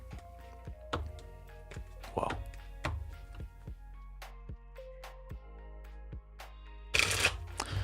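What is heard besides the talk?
shuffling tarot cards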